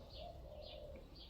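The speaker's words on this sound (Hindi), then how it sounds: "चिड़िया चहचहा रही हैं, अभी भी चहचहा रही हैं बाहर" Outdoor birds coo and chirp softly at a distance, a few gentle repeated calls over a quiet, steady background.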